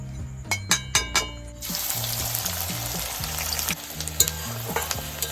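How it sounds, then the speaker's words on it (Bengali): Onions going into hot oil in a wok already used for frying birista, with a few sharp clinks followed by a sudden steady sizzle and stirring, close and loud under low background music. "কড়ার তেল গরম হয়ে গেছে বেরেস্তা ভাজার তেল আছে ওতে আমি পেঁয়াজগুলো ভেজে নেবো"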